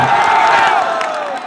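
A crowd at a fair stage show cheers and shouts in a loud burst that fades slowly over about a second and a half, a broad roar of many voices.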